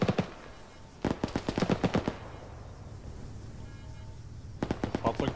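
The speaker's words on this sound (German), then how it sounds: "Können wir ausmachen, von wo die schießen?" Gunfire in the military video game ArmA 3, two close bursts of rapid automatic shots separated by a quieter stretch of distant ambience.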